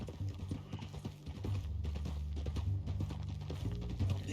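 Horse hooves clip-clop steadily in Red Dead Redemption 2 as a horse carries a bound captive toward Saint Denis, a continuous close rhythm of hoofbeats over low rumbling, with no speech.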